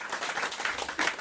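Studio audience applause on a French radio joke show, a short burst of dense clapping at moderate level, steady and slightly swelling toward the end.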